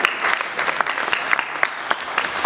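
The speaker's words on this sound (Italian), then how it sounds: "A lei va l'applauso di Alessio e di tutti i suoi amici qui presenti." Audience applauding at a book presentation, a steady patter of many hands clapping together, fairly close and filling the room for a couple of seconds.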